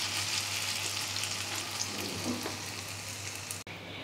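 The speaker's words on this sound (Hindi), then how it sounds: "इसी तरीके से बाकी भी हम फ्राई कर लेंगे।" Food sizzles in hot oil in a frying pan, a steady crackling hiss with a faint low hum beneath it and a brief knock near the end, with no one speaking.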